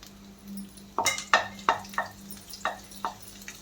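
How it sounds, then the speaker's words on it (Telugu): Onion and ginger pieces fry in a pan. Several close, sharp scrapes and clinks of a utensil stirring come at an irregular pace over a faint, steady sizzle. "ఎల్లిపాయ ముక్కలు వేగేటప్పుడు అల్లం ముక్కలను కూడా వేసి వేయించాలి"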